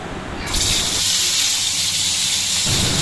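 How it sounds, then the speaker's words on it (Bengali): Turmeric-and-salt-coated katla fish pieces hit hot oil in a kadai, bursting into a loud, continuous hiss and sizzle that starts abruptly and stays steady and close. "মাছগুলোকে ভালো করে হলুদ লবণ দিয়ে মাখিয়ে একে একে গরম তেলে ভেজে নিই"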